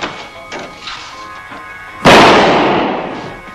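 A champagne cork pops with a single loud, sharp burst that trails off in a fizzing hiss, after quieter background sounds.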